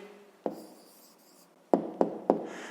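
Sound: writing down the answer

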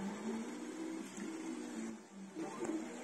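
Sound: Flashforge Finder 3 3D printer running, print head moving

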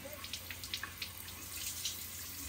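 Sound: water tap running while a girl washes her face

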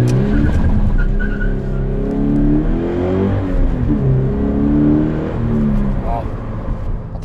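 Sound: Toyota GT86 engine accelerating

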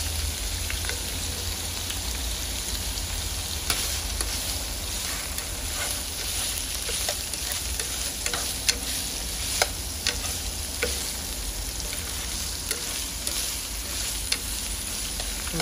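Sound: tofu being stirred and fried with garlic

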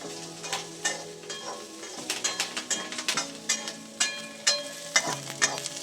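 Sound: onions sautéing in a pan for drumstick kurma

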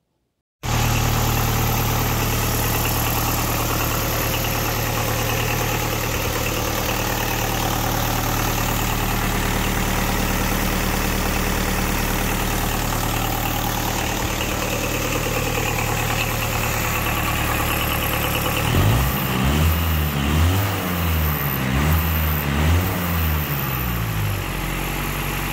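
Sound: Mercedes OM 636 diesel engine of a Unimog running, played recording

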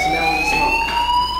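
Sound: fire alarm ringing in video game Life is Strange

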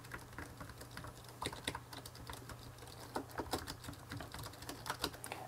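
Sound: typing on Gigabyte Force K7 scissor-switch keyboard

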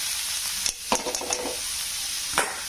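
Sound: stirring papaya halwa in a pan

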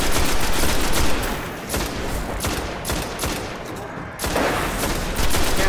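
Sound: gunfire in Destiny video game

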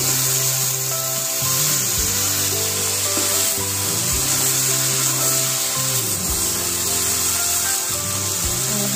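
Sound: stirring potato and cowpea curry in a pan

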